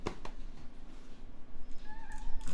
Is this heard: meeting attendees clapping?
no